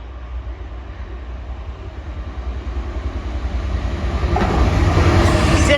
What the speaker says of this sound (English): Right, the freight is here and it's early.